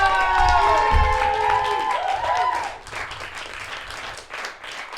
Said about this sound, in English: Can we please start that big round of applause?